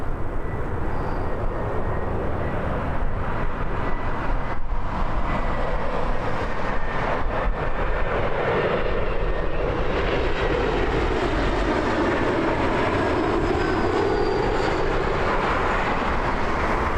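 A Boeing 737 at Toronto Pearson Airport roars loudly and steadily as a broad, continuous jet rumble, with a slow swelling sweep in the engine noise as it passes close by.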